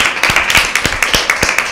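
Close, loud rhythmic clapping from quiz teams applauding themselves during a Lent season Bible quiz, a steady beat of claps in quick succession.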